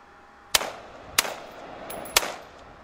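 A gunshot sound effect plays three times as separate sharp cracks about half a second apart, each with a short fading tail, over a faint steady background.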